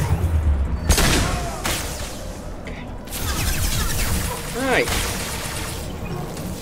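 Weapon fire in Mass Effect 2, loud bursts of gunshots in rapid clusters broken by short pauses, with someone talking briefly between the volleys.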